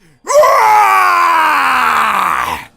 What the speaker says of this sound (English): Beerus starts screaming